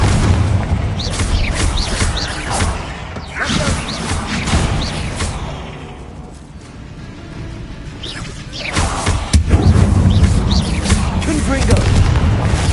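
Bombarda and Confringo spell blasts in Hogwarts Legacy, fired inside a tomb: repeated loud booming explosions with whooshes and rumbling debris, clustered in bursts with a quieter lull midway, while a voice calls out over them.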